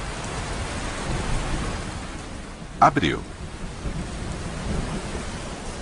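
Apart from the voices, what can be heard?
heavy rain and thunder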